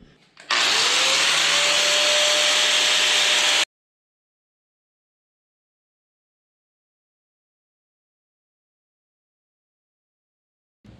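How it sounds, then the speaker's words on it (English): A grinder working down the cut bungs on an Eaton M112 supercharger, one loud close burst of steady high whirring and grinding lasting about three seconds, then it stops dead into silence. "I'm gonna get the grinder and grind them down"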